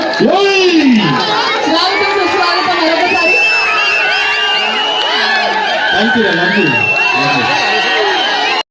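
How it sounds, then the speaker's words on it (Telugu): Crowd at a stage event with a Jabardasth comedy team in Yemmiganur: loud, continuous cheering, whooping and excited shouting from many voices, close and dense throughout, with no distinct clapping standing out. "చప్పట్లండి"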